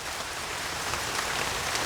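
Steady rain falls through a forest at night, a dense, even hiss of drops on leaves and ground that holds at the same level throughout with no voices.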